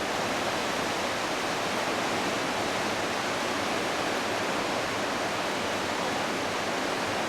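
The Smith River at flood stage rushes past in a dense, unbroken roar of fast water. It stays loud and constant throughout, with no voices.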